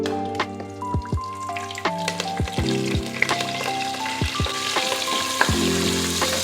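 Mint leaves and kasuri methi frying in a spoon of oil and a spoon of ghee for mutton biryani, a steady close sizzle broken by irregular knocks and scrapes of stirring, no talking.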